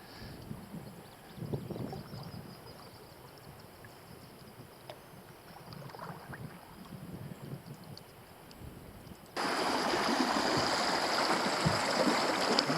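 River rapids rush on a remote waterway in Northwest Ontario, a faint, uneven wash at first that jumps to a louder, steady roar for the final few seconds.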